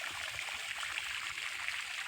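Irrigation water runs into furrows in a wheat field, a steady close rushing and trickling flow with no voices over it.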